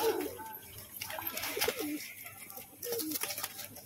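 Several pigeons, kept fancy pairs of matching color, coo softly at close range in short rounded throaty calls with brief gaps, while faint background sounds run underneath.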